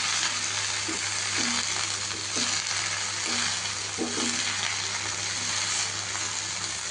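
Mint and tomato frying in a small pan (bandi), giving a loud, continuous sizzle and bubbling throughout, with faint rhythmic scrapes of stirring beneath.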